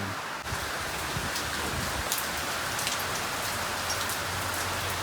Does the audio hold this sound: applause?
no